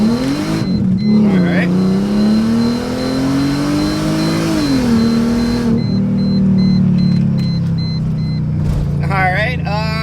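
Mercedes SLK32 AMG with its supercharged M112K engine and long tube headers, running a 20 psi boost pull: a loud, steady engine roar rising and falling through the gears, with a brief spoken word near the end.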